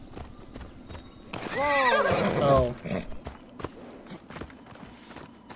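A horse in the video game Assassin's Creed Odyssey gives a loud, close whinny that rises and falls over about a second, with hoof clatter before and after and a short spoken exclamation nearby.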